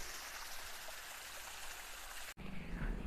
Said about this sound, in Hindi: ये पानी जा रहा है।